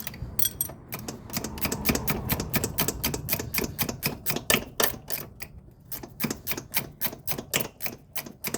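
A wrench ratchets in quick, dense clicking bursts on a caliper bolt of a 2007 Honda Recon ATV, close and dry, with brief pauses as the handle swings back between strokes; no talking.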